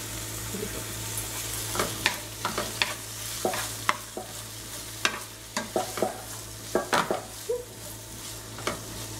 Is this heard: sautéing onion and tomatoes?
yes